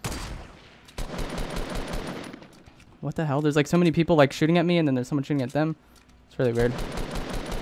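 Fortnite Battle Royale gunfire: rapid, crackling bursts of shots for the first three seconds, then someone talks over quieter surroundings.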